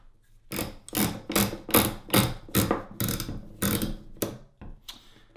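An AAC M4-2000 suppressor is screwed onto an HK 416 rifle, giving a close, loud series of about ten sharp ratcheting clicks in a quick, even rhythm, with no voices.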